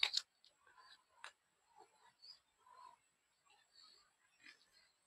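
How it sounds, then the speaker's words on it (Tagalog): A chicken makes soft, scattered clucks and low murmurs close by in a quiet rural setting, with short gaps between the calls and a sharp click at the start. "Nagakuko yung manok natin dyan."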